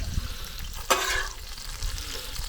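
Crab frying in a pan in a village kitchen for Chettinad crab fry, a steady close sizzle with a sharp clatter as pieces are turned, no voices.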